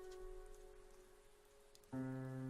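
Soft, steady rain patters faintly in the game Chaos;Head, a low hiss of drops on surfaces. Near the end a louder sustained musical tone cuts in over it.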